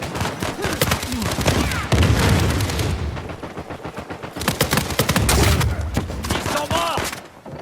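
A grenade explosion in the video game Uncharted 4 arrives amid dense game gunfire, with heavy booming bursts and rapid shots filling the mix throughout.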